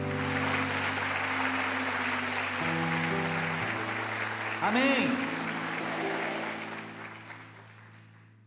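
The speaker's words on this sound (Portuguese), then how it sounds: "Uma salva de palmas aos santos anjos." Church congregation clapping throughout over sustained organ or keyboard chords, moderately loud and steady, with a brief spoken response midway and the sound fading toward the end.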